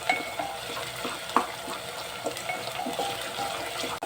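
Ginger garlic paste and onions fry in a pan for a masala curry, a steady soft sizzle with occasional stirring clicks and scrapes at moderate volume, no speech.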